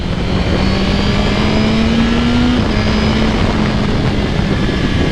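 A 2023 Suzuki GSX-R 1000 motorcycle engine runs at a loud, steady pitch that climbs and then drops as the quick shifter and auto blipper change gears, with constant wind and road roar and nobody talking.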